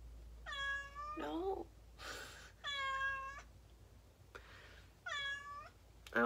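A cat meows from outside a closed room, three drawn-out, fairly loud meows with pauses between and a shorter chirpy cry in the mix, heard alone without talk.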